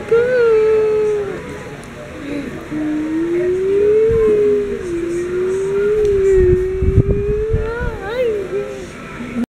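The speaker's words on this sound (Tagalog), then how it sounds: "kanina pa yung sirena na yan. Parang may sunog." A siren wails steadily, its pitch rising and falling slowly, with engine rumble and scattered thumps underneath.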